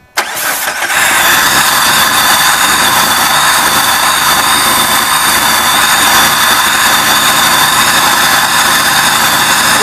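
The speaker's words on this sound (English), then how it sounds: "Rev it up a little bit." Vehicle engine cranking and catching at the start, then holding a loud, close, steady rough roar for the rest, with a fuel leak at the back; no clear rise in revs.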